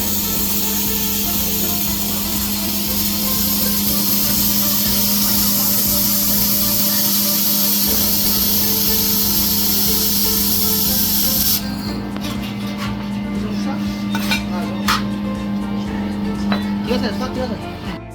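A laser welding machine working stainless steel gives off a steady, loud high-pitched hiss with a low electrical hum beneath it, then cuts off, leaving quieter workshop clinks and rubbing sounds.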